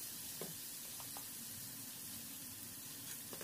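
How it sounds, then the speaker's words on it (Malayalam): Chicken curry sautés with chili powder and coriander powder, a soft, constant sizzle with a few faint stirring taps, quiet and close. "1 ടീസ്പൂൺ മുളക് പൊടി 1 ടീസ്പൂൺ മല്ലിപ്പൊടി ചേർത്ത് നന്നായിട്ട് വഴറ്റാം"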